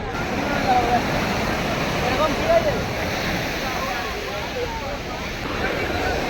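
Sea waves breaking on Puri beach, a loud continuous wash of surf with rolling swells, heard close and steady with no clear talk.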